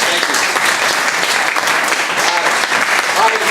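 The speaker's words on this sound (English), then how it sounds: "Round of applause" Dense, sustained applause from an audience at a community meeting, loud and continuous from start to finish with no gaps.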